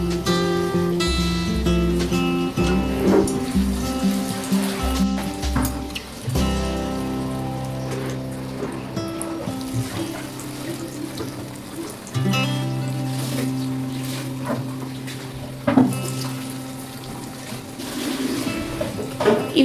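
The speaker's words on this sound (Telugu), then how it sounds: "ఆయిల్ ఇప్పుడు వేడెక్కిపోయింది కాబట్టి ఇప్పుడు వడలు చిన్న చిన్నగా వేసేసుకుందాం" Corn vadas frying in hot oil in a home kitchen, giving a steady crackling, rain-like sizzle that continues throughout under background music, with no talking.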